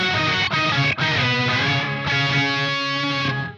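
An electric guitar plays sustained chords through a pitch-shifter pedal on a Sonicake Matribox 2 Pro, with shimmering, doubled harmonic tones ringing out over a few seconds without any talking.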